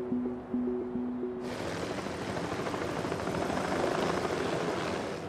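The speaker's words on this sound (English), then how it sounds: "Helicopter is the only way in and we were flying back and forth very low, just above the ground surface" A helicopter flies low and steady over barren volcanic ground, its broad rushing engine and rotor noise rising in after a few faint tones and holding close and loud with no talk.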